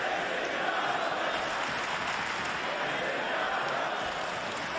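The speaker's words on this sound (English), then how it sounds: "Sold out crowd chiming in." A sold-out Chicago arena crowd of over 16,000 at a wrestling event roars and cheers in a steady, dense wall of noise that holds at an even level throughout.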